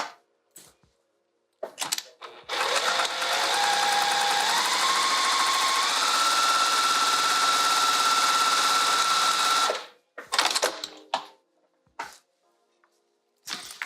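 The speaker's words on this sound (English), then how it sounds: "And now I'm going to sew along this edge." A sewing machine stitches along a fabric edge while sewing a zipper overlay, a steady whirring run of about seven seconds that rises slightly in speed, framed by brief handling clicks and rustles.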